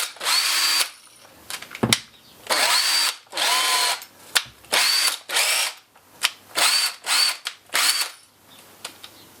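An old electric drill that had been letting out smoke runs in about a dozen short, loud whirring bursts separated by brief silences and small mechanical clicks.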